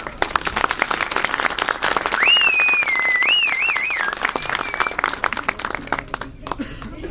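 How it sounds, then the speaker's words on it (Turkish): A crowd at a political campaign event breaks into dense, sustained applause that fills the space, with a loud whistle rising above it partway through and some cheering mixed in. "sözü çok fazla uzatmadan alkışlarla Cengiz Ulman'a sözü devrediyorum"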